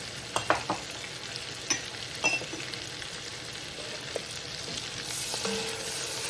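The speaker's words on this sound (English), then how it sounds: "we're going to saute these up until the onions get translucent" Onions sauté quietly in a pan with black pepper, giving a soft, steady sizzle broken by a few clicks and scrapes of stirring.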